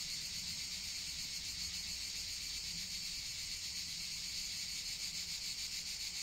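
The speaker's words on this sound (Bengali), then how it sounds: "আমি ঝিঝি পোকার আওয়াজ অনেকদিন পর শুনলাম" Crickets chirping at night in a steady, dense, unbroken trill that holds at an even loudness throughout, with no voices.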